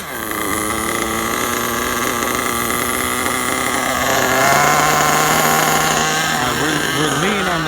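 Steady, buzzing idle of the small nitro engine in a Losi 8ight RTR truggy, running lean on the low end, heard close and loud throughout, its pitch wavering and rising slightly toward the end.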